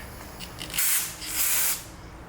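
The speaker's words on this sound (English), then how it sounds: "I'm going to take some of that carb spray now." Two loud hissing bursts of aerosol carburetor cleaner sprayed onto a rag, each lasting about half a second, close up, with a short pause between them.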